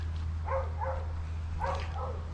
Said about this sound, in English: there's someone's dog barking.